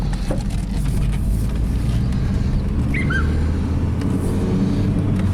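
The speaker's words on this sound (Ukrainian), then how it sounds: "я з камерою і з одною рукою їду" Road noise from inside an Audi 80 being driven, a loud steady low rumble of engine and tyres filling the cabin, with a couple of faint chirps briefly heard over it and nobody talking.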